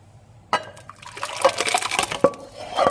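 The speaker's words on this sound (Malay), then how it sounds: "Dan sekarang ni kita tuang dia dalam mangkuk supaya dia cepat sejuk ya." A hot, just-boiled dried fruit mixture for a steamed chocolate fruit cake is poured from a pot into a bowl, giving wet splashing and glugging with a few sharp clinks of metal and crockery, close up.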